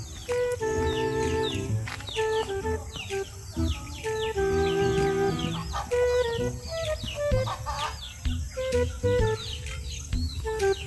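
Several chickens cluck and squawk close by in overlapping bursts outdoors in Panglao, Bohol, with sharp calls and short clucks repeating throughout.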